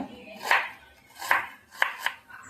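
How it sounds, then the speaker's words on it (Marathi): Chopped onions for a mung bean usal tiffin recipe being cut finely on a board, with four spaced knife strikes landing at an uneven rhythm, close and moderately loud in a quiet kitchen. "आता मी हे सगळे कांदे बारीक कापून घेते आहे"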